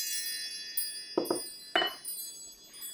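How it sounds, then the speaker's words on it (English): Wind chimes ring softly, with a few bright metallic strikes and lingering tones over a quiet background hiss, struck in short clusters rather than a steady jingle. "Let's call in spirit with some wind chime time."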